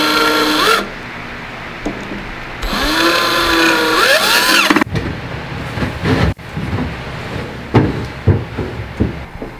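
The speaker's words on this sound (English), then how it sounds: "I like to use a drill to take them off and put them back on" A power drill whirs in two close bursts, its pitch rising and falling as it backs screws out of hardware on a midcentury modern dresser, followed by clinks and knocks of the parts being handled.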